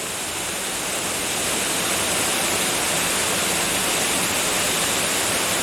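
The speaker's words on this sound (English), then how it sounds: "Top and bottom of the waterfall." A waterfall along a forest hiking trail roars steadily and loudly, a dense, unbroken rush of falling water.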